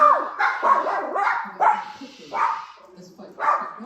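A nearby dog barks repeatedly in quick, uneven bursts, about six sharp yelps with short whiny tails between them, fairly loud and close.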